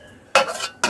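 A metal lid is set on a cooking pot of beef skin curry, making two quick close clanks less than half a second apart over a faint background hiss.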